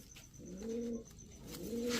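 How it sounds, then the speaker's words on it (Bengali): A Giribaz high-flyer pigeon, held in the hand, coos close by in two rolling, throaty phrases, with quiet background ambience. "এক জোড়া বাঘা কবুতর দেখাবো দেখেন নটটা হাতেই ডাকতেছে"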